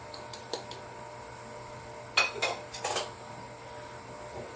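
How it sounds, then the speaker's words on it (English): A whisk rattles against a bowl while baking powder, baking soda and spices are mixed into flour, with a few light taps and then a short burst of brisk metallic clinking, no voices. "I'm going to go ahead and I'm just going to whisk"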